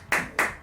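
A brief applause sound effect in a light-hearted talk, heard as two quick, crisp bursts of clapping in close succession, each fading fast, with the start of a third at the end.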